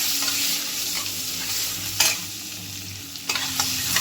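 Onion with cardamom, cloves and cinnamon sizzling steadily in a hot pan, a continuous frying hiss with a few brief scraping stirs, close and moderately loud with no talk.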